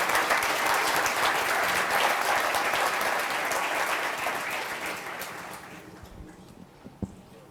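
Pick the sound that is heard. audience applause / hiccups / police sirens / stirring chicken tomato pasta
audience applause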